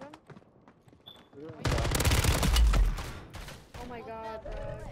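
Rapid pistol gunfire in a video game, a dense loud burst of shots lasting about a second, followed by more shooting and game sounds.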